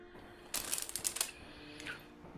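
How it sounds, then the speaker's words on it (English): Quick keystrokes on a keyboard during a tabletop role-playing session, a short burst of crisp clicks and clacks that comes close and clear, trails into a few more, then stops. "Sorry, I am slow at typing."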